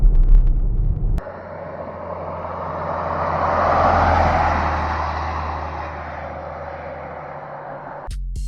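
A 2006 Mercedes ML350 SUV drives along, a steady low road and engine rumble with broadband tire noise that swells and fades, heard from inside the cabin after a sharp thump at the start, with no talking.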